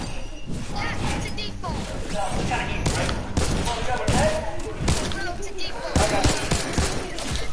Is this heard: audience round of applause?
no